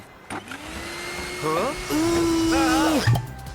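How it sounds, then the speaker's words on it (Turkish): A vacuum cleaner in a mobile game gives a whirring, whining hum that rises and holds with wavering electronic tones, brief and close, with no one speaking. "Bir Frank yiyici süpürge."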